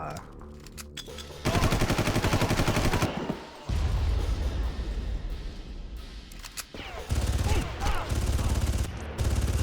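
Bursts of rapid assault-rifle gunfire in the Far Cry shooter, loud and close, firing in sustained volleys with short pauses between them, while someone talks over the shooting.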